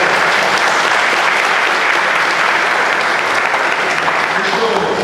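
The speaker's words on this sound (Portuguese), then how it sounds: "uma salva de palmas, galera" Audience applause from a crowd at a group activity, steady dense clapping sustained throughout at a close, loud level, with a murmur of voices mixed in.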